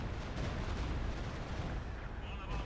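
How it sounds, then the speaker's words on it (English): A Stuka dive bomber strike in Company of Heroes 2 lands as a heavy, continuous rumble of blasts and roaring noise, loud and unbroken throughout. "Looks like the Stuka's going to come in right here"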